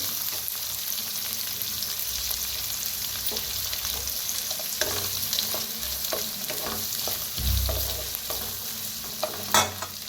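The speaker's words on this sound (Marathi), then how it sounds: "हिरवी मिरची बी भाजून घ्यायचं, भाजून घेऊया" Green chillies with garlic and onion roast in a pan while a spoon stirs and scrapes, a steady crackling sizzle broken by knocks and a louder clatter near the end.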